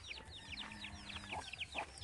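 Chickens and young chicks cluck and cheep in a rural Filipino yard, with a steady run of short high peeps over lower clucks, fairly close and alone without talk.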